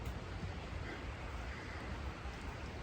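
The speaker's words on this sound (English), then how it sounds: "the Cognac Creek is high and flowing fast, which makes it loud" Cognac Creek, running high and fast, gives a steady, loud broadband rush of water at night that stays even and unbroken throughout, with no voices.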